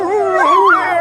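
A voice imitates a dog howling, a single drawn-out, wavering howl that rises and falls, loud and close, with no other talk.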